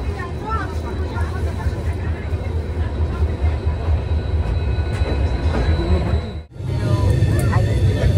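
Kanchankanya Express train running toward Siliguri, a steady loud rumble of wheels and carriages throughout, briefly dipping near the end before resuming; no talk heard.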